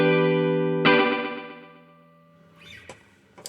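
A held guitar chord smeared through a Chase Bliss MOOD pedal's reverb of many tiny delays, re-struck once and then washing into a fading, shimmering tail with a few faint clicks.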